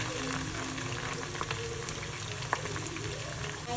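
Mushrooms frying in a pan for crispy mushroom snacks, a continuous dense sizzle throughout with a single sharp clink partway through.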